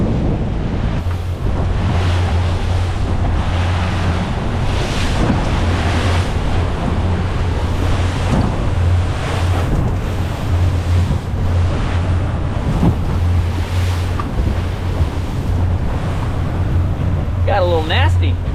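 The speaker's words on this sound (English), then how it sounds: "It's getting a little bit breezy." Breezy wind gusts across open ocean during a morning troll from a boat, a constant loud rumble of buffeting wind and surf washing beneath it, with no talk.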